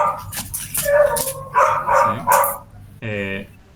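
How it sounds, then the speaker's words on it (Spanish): A small dog barks and whines excitedly at home, with several yips mixed in among speech and one clear, drawn-out bark near the end. "la perrita o perrito se está poniendo loco"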